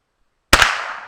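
A single sharp gunshot from a Glenfield Model 10 .22 single-shot rifle cracks out of silence, close and loud, with a short ringing decay afterward.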